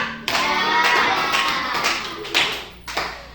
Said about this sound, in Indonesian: beri tepuk tangan dong untuk kelompoknya